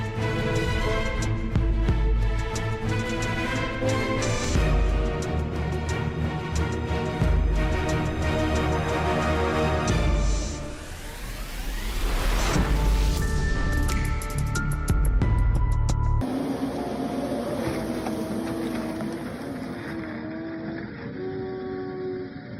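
TBG 630 wood shredder with a 661-horsepower Scania V8 at work on logs, a dense, continuous mechanical roar with grinding and crashing surges, fairly loud and close throughout, with no talk.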